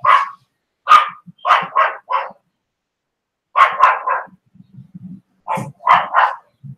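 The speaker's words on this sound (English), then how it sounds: "You're going to hear a lot of dogs because somebody's doing something" Dogs bark loudly in scattered bursts of two to four yips and woofs, with short gaps of silence and quieter whimpers between them.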